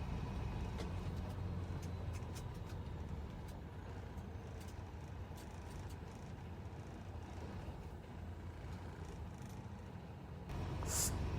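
A truck drives through city traffic in Saskatoon, heard from inside the cab as a steady low engine and road rumble that holds throughout, with a slight swell near the end and no talking.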